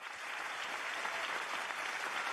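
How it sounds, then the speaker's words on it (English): An audience at a peace festival event applauds a couple, with dense, steady clapping that holds evenly across the whole stretch at moderate distance. "So please give our couple with another round of applause."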